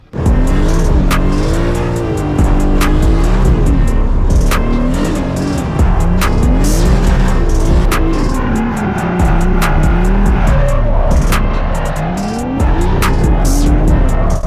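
A powerful 720-horsepower car engine roars loudly and continuously, revving up and down with tire squeal as the car drifts, heard from the back seat at close range.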